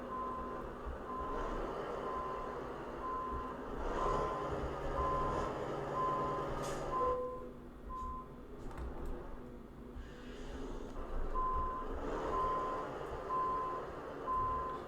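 Truck reversing in Euro Truck Simulator 2: a regular, evenly spaced electronic beep repeating through the clip over a low engine drone, pausing briefly midway before resuming.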